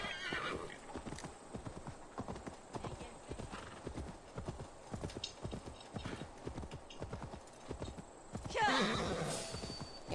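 Horse hooves clip-clop steadily in a fast rhythm through the Assassin's Creed Valhalla game world, with a sharp whinny rising near the end over the hoofbeats while a person talks in the background.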